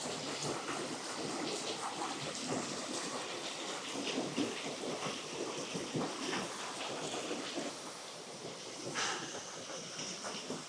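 Rock waterfall in a forested valley gorge, a steady, broad roar of falling water that is fairly close and continuous, with no talking.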